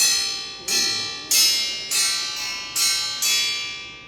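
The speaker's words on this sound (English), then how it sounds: "is the spring off of some large vehicle. And it makes a great sound when you hit it" A heavy metal spring from a large vehicle, struck as a percussion instrument, gives six bright, ringing bell-like clangs at an uneven pace, each decaying slowly before the next hit.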